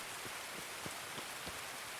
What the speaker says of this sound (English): Sorry for the rain again.